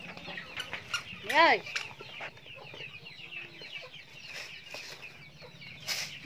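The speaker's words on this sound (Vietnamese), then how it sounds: "mày cho gà ăn nè, nhìn này" Chickens cluck and chatter while being fed at a farmyard, with one louder rising call standing out over steady fowl noise and people talking nearby.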